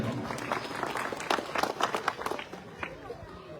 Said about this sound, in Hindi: तो आप लोग तालियां तो बजाई दीजिए कम से कम।